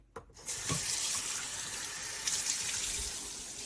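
A kitchen sink tap opens with a brief knock and then runs steadily, a close, even gush of water pouring into the basin with no talking.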